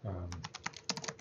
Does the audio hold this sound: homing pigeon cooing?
no